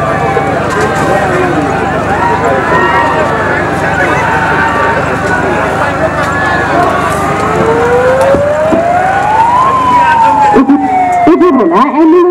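Ambulance siren at a Nepal Army fire rescue demonstration, a rising and falling wail that sweeps upward near the end over continuous engine and crowd noise, with people talking throughout.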